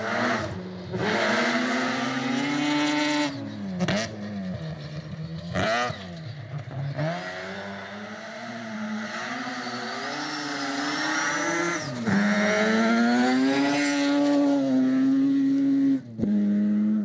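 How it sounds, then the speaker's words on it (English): A Mazda RX-7 and a Ford Escort BDA race on the stages of the 2023 South Canterbury Rally in New Zealand. Loud, close engines rev hard through repeated gear changes, dropping briefly between surges of acceleration. "there was a great battle between Stuart Reid in the RX-7 and the beautiful Escort BDA of Tim McIver"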